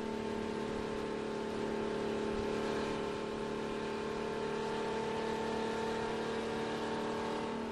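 A NASCAR race car engine holds a steady, loud droning whine at speed while running laps, continuous and unbroken with no talk.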